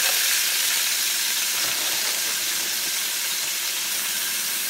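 Frozen green onions hiss and crackle in hot oil, a dense, steady, close sizzle that holds evenly throughout with no voices.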